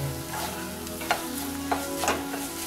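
Grated coconut stirred into a pan of softened tomato and spices for tomato kuzhambu, a steady close sizzle broken by a few sharp spatula scrapes and knocks, with no talking.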